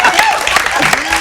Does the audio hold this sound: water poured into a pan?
no